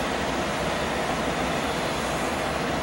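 A freight train rolls past with a steady, loud broadband rumble and rattle of rail cars, continuous and close, with no talking over it.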